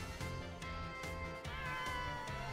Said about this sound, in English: How come you meow without opening your mouth?